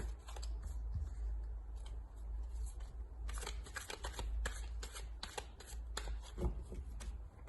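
Playing cards being dealt out into a nine-card tableau, a close series of quick papery snaps and slides arriving in irregular bursts over a low steady hum.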